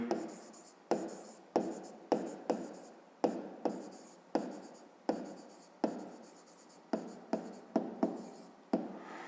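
Pencil writing on paper while solving a fifth-grade math exercise, about fifteen short scratchy strokes in quick irregular succession, close and clear with no talking.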